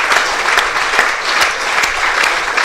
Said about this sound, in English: applause all round the ground, the media centre and beyond